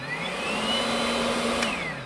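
A Ryobi cordless leaf blower runs steadily with a whirring whine and airy rush, constant and fairly close, its pitch holding level before dipping slightly at the end.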